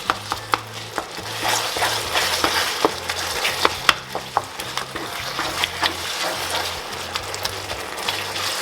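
A spoon stirring spoonfuls of cranberry sauce into simmering leftover turkey pie filling in a pan, soft scraping and wet bubbling with faint sizzle and occasional sharp clinks, no talking.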